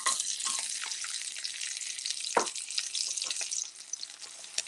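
Onion frying in a not-quite-clean pan while a vegetable chilli is being made, giving a steady bright hiss with crackling pops and one sharper spatter midway, close and fairly quiet, with no one talking.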